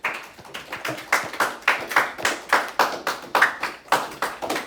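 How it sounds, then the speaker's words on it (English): Students in a high school math classroom clap for two classmates, around a dozen distinct, sharp claps in an even rhythm about three per second, close and clear with no talking. "Guys, clap it up for Salucci and David."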